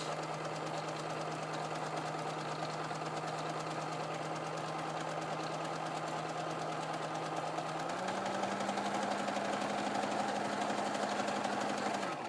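A sewing machine zigzag stitches the open straight edge of fabric for a reusable cone coffee filter, a continuous rapid mechanical whir that runs unbroken and steps up slightly in pitch near the end, with no talk.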